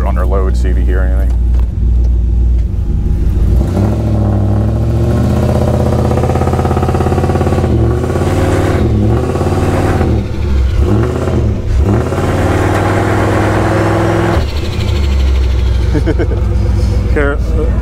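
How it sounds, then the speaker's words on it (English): A 2003 Ford Crown Victoria Police Interceptor's turbocharged engine drones loudly and continuously, rising and falling in pitch as it revs under load, with voices talking over it. "I have to put it under load, see if you hear anything."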